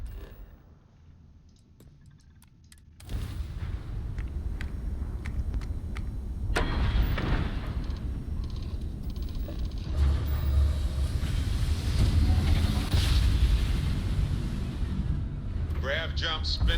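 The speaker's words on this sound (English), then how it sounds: "Grav jump spinning down." A grav jump drive in the video game Starfield spinning down after a jump, rising from near silence into a loud, sustained rumbling whoosh with swelling hiss, holding steady to the end, with talk heard over it.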